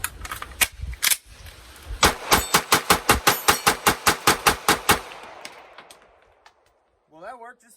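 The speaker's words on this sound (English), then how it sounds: "And then we load it real quick and shoot it." A rapid string of loud gunshots fired from a wet S15 magazine, two shots, then a fast burst of about fifteen evenly spaced cracks, followed by fading ring-out and a brief voice at the end.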